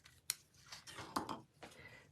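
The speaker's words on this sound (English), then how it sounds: "Bring in my ribbon scissors." Ribbon scissors snip through paper in a few quick crisp cuts with soft rustling between, close and quiet, no talking.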